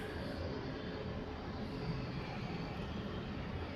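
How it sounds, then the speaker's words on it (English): Lufthansa Airbus A340 airliner taking off at LAX, a steady broad jet roar at moderate distance that holds constant throughout, with no voices. "A340 leaving, the Lufthansa A340."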